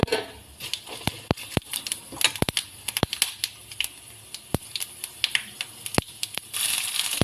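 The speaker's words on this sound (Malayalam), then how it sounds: "ചൂടാക്കുമല്ല എണ്ണയ്ക്കകത്തോട്ടിട്ട് ഒന്ന് പൊട്ടട്ടെ" Whole cinnamon, cloves, cardamom, pepper and fennel seeds crackle in hot oil for a Kerala hotel-style chicken curry, giving a string of sharp, irregular pops and snaps over a faint sizzle, close and without talk.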